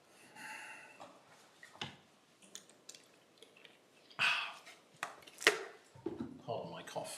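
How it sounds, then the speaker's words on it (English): A lecturer coughs during a physics class, giving a couple of sharp, harsh bursts close to the microphone. Quieter shuffling and muffled sounds come between the coughs. "Pardon my cough."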